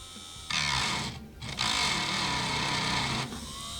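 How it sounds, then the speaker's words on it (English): A Dremel rotary tool spinning at 1500 RPM against watch crystal glass gives a loud, steady high whine with grinding texture, briefly dropping out near the middle before resuming and then easing off. "Dremel, I'm going to do it on 1500 RPM."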